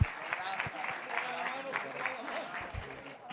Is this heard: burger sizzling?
no